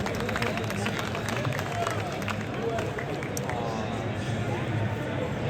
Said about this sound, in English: Come on, can we get a round of applause?